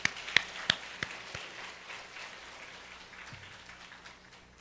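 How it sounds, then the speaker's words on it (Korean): A church congregation applauding during a festival worship service: a few sharp claps stand out at first, then a soft, distant patter of applause fades away. "하나님께 박수의 영광을 돌리시고"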